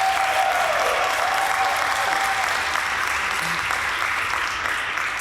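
A room of attendees at an Earth Day press conference in Newark claps together in a dense, continuous round of applause, steady and fairly loud from start to finish, with no speech over it.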